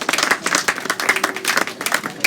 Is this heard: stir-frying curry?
no